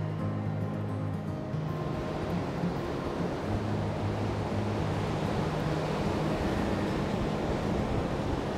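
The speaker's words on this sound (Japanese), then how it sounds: "もう波すごいなこれね" Strong ocean waves of about 1.5 m break against a breakwater lined with tetrapods on a rocky coast, a loud, continuous roar of surf with wind buffeting the microphone and no voices.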